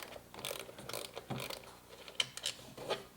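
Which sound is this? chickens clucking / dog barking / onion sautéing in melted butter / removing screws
removing screws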